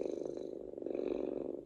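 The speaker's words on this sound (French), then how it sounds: "il adore aussi le ronronnement du chat" A recorded cat purr plays from a Mon Petit Morphée sleep-aid device, a soft, steady, rhythmic rumble that sounds faint and continuous.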